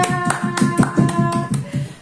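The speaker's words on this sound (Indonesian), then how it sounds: "Ayo tepuk tangan dulu buat Risma." Applause for Risma, a writer whose manuscript was selected, breaks out in a podcast studio: a few hands clapping in a loose, uneven rhythm for about two seconds, close and fairly sparse, with faint background murmur.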